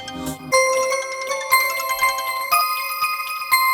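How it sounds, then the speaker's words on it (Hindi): A mobile phone rings with a bright electronic ringtone melody, its repeating tonal phrases loud and close, starting after a brief burst of other sound. "मैम आपका फोन।"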